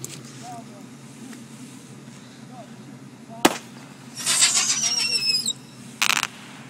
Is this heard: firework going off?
yes